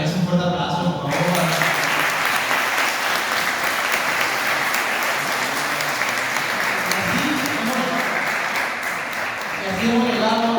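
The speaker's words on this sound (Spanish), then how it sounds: "Y otra vez un fuerte aplauso, por favor." Another round of strong applause from an in-person audience at the Media Human Fest 2025 closing, a steady, loud wall of clapping lasting nearly ten seconds, with brief talk at the start and as it fades.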